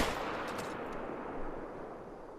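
A rifle shot at a whitetail buck at Layton Lake in a hunting video game is heard as an already-fading report, a broad rumbling echo rolling away over two seconds.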